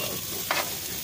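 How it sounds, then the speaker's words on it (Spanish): Chilies and three garlic cloves drop into a hot pan at an outdoor weekend cookout, setting off a short burst of frying sizzle over a steady background hiss. "ya voy a echar los chilitos aquí, ¿eh? Con 3 dientes de ajo."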